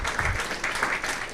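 Short burst of scattered audience applause at a candidate forum, a few uneven claps rising and falling with some low rumble at the start.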